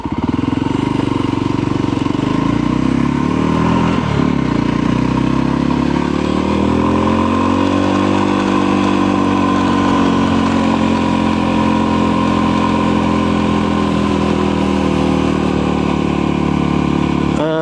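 Voge 300 Rally motorcycle engine climbing a mountain trail, a steady loud single-cylinder drone that rises and falls in pitch as the rider works the throttle, continuous and close throughout.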